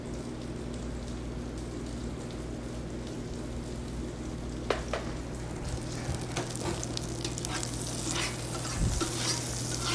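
Scallops sear in butter in a hot cast iron pan, giving a loud, continuous crackling sizzle with occasional sharp pops and faint clinks, and no talking.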